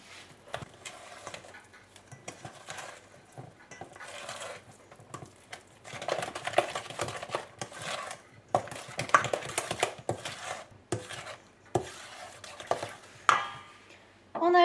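Mascarpone is stirred into a lemon mousse mixture in a bowl, soft irregular scraping and clinking of a utensil against the bowl, close and fairly quiet, building into busier strokes midway.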